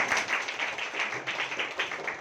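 Audience clapping at a Hindi church service comes as a soft, fast patter of many hands, fairly distant and faint, with no voices over it.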